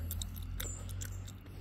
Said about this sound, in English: I'm chewing gum